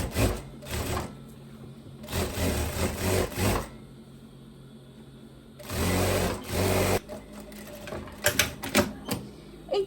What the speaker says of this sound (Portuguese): agora eu venho passando uma costurinha de reta de reforço aqui nessa costura de over que eu fechei